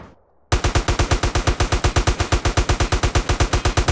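Rapid automatic gunfire from GTA San Andreas, a steady loud burst of evenly spaced shots following a brief quiet moment, with no talk over it.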